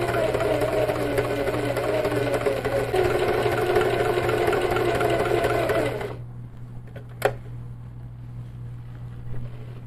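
A sewing machine runs slowly and steadily along a quilting guide line on a matelassé piece, humming evenly for about six seconds before stopping, followed by a single sharp click in near silence.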